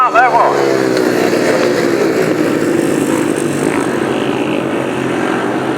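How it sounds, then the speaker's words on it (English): 500cc solo grasstrack motorcycles roar in a loud, sustained race pack at a grass track meeting, engines blaring continuously and close. "Now we're on to race 25, more 500cc solos."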